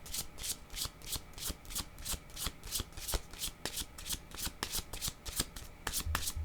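Tarot cards being shuffled by hand, a steady run of crisp riffling flutters repeating roughly every half second, close and clear with no talking.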